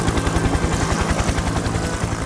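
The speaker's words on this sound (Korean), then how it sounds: "갑자기 상공에서 비행기 소리가 들려옵니다" A propeller aircraft passes overhead above a boat at sea during the 1973 abduction of Kim Dae-jung, producing a loud, steady, throbbing drone with rapid rhythmic beating that holds for the whole stretch.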